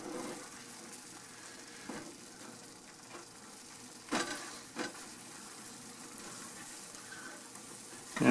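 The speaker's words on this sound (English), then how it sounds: "I just kind of stir it here and just kind of flip it over" Food sizzles steadily in a frying pan, with a few scraping knocks and shuffles as it is stirred and flipped, close and moderately quiet, with no talking.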